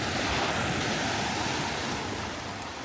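Sea waves wash steadily onto a turquoise-water beach, a continuous broad rushing surf with some wind buffeting the microphone, fairly close and moderate in level, with no talking.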